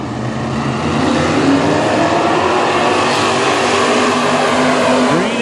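WISSOTA Midwest Modified race cars roar together at Princeton Speedway, a loud, continuous dense engine drone with pitch swells as the pack accelerates past.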